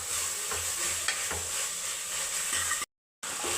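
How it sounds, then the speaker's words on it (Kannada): Toor dal frying in oil in a pan, with a steady close sizzle and occasional soft stirring knocks, then a brief silent gap before the frying resumes. "ತೊಗರಿಬೇಳೆ ಇದನ್ನ ಇವಾಗ ಒಂದು 5 ನಿಮಿಷ ಫ್ರೈ ಮಾಡ್ಕೊತಾ ಇದ್ದೀನಿ."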